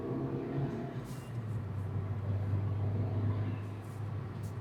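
Fiat Punto Abarth driving, a steady low engine drone and road rumble heard from inside the cabin, continuous and moderately loud throughout with no talk.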